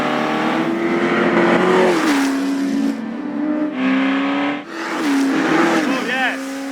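A 1966 Ford GT40 race car that ran at Le Mans, its V8 engine revving hard and close, rising and falling through several loud throttle blips with brief dips between.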